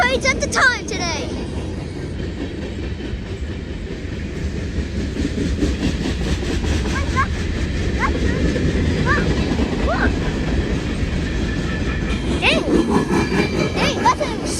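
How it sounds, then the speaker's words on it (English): A short freight train rolls past in Ashville, Ohio, with a continuous close rumble and rhythmic clacking of wheels over rail joints, steady throughout, with faint squeals and occasional voices nearby. "Dang, that's a short train."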